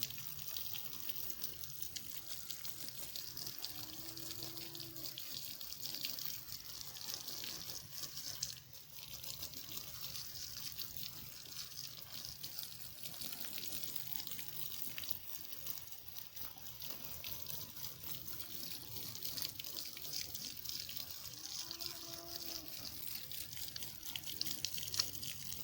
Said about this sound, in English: The seed bed, now it's time you water.